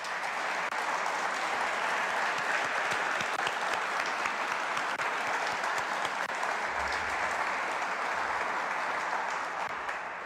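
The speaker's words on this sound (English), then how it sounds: "Let's give them all another round of applause." An awards ceremony audience applauds steadily throughout, a dense and sustained wash of clapping from many hands with no voices standing out.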